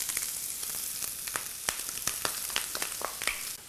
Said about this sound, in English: I've started by browning some sausage in a skillet